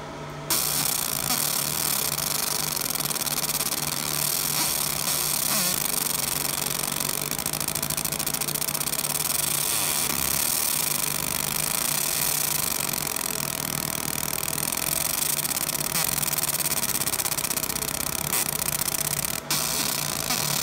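A laser engraver marks lettering onto an AR-15 upper receiver, giving a dense, steady mechanical hum and hiss that runs unbroken and loud for the whole stretch, with only a brief dip near the end.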